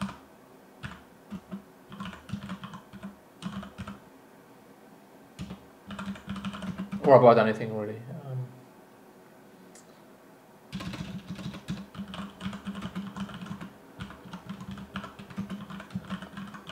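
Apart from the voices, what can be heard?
typing on a computer keyboard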